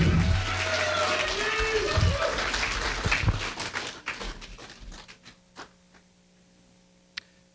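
An 8th grade graduation audience in Anaheim Hills applauds the class of 2025: full clapping with a few voices that fades over several seconds into isolated claps and a faint room hum.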